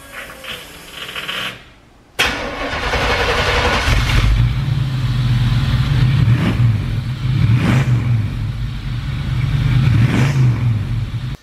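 A motorcycle engine idles loud and close with a steady low rumble after a brief cutout, swelling in several throttle blips and revs over the running drone.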